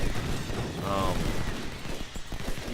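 Massed musket fire from Civil War troops in a strategy video game, a continuous rolling crackle of volleys at a steady loud level, with a faint voice rising briefly in the middle.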